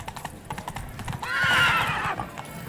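Geralt's horse Roach in The Witcher 3 galloping with rhythmic hoofbeats, then a loud whinny breaks out in the middle, close and clear, with no talking.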